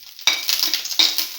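Curry leaves hit a hot pan and sizzle sharply in two bursts of crackling spatter, close and loud, with a brief clink of a utensil, no voices.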